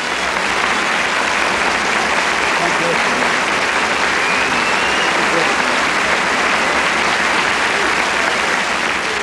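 Sustained, loud applause from a live audience for a performer, dense steady clapping with crowd noise filling the whole stretch without a break.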